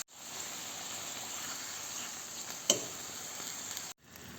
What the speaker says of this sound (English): add the meat. Beef sliced very thin, so it's very quick to cook